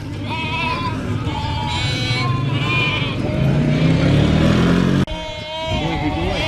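Sheep bleating in a field on a countryside ramble at Chapel-le-Dale, several overlapping bleats at varying distances over wind and outdoor noise, with a sudden break near the end before more bleats follow.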